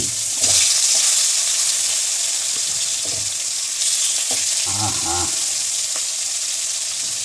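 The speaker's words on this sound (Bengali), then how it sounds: "ইলিশ মাছ ভাজা হবে ইলিশ মাছ ভাজা আর খিচুড়ি" Hilsa fish sizzles steadily in a frying pan, with a continuous hiss broken by a few clinks and stirring knocks, while rain falls lightly outside.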